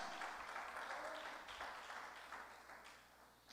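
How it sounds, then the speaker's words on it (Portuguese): A church congregation applauds for the Lord during a sermon, a continuous dense wash of many hands clapping, fairly distant and steady, tapering slightly toward the end. "As palmas para o Senhor,"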